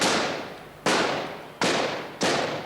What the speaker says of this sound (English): More gunfire even as we scrambled for our car.